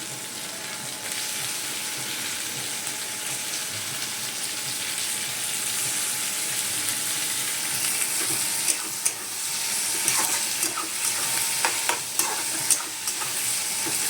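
Liver goes into a pan of spiced, browned masala and fries with a steady hissing sizzle, while a utensil scrapes and clinks now and then toward the end.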